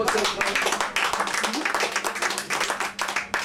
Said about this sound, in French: Alors on va l'applaudir très fort.